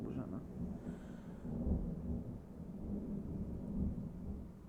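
Low thunder rumbles during a storm in Portal 2 gameplay, a soft continuous rolling that swells and fades over several seconds at a distance, with faint breathing-like noise over it.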